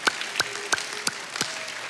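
A church congregation gives a few scattered claps for the pastor's birthday: about five distinct sharp claps spaced roughly a third of a second apart, fairly close, over a light room background with no talking.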